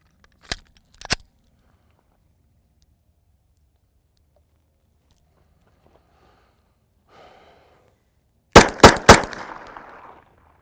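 Sharp 9mm handgun shots from MagTech 95 grain JSP rounds ring out at a range. Two quick reports come early, and a tight burst of three or four follows near the end, with faint handling noise between them.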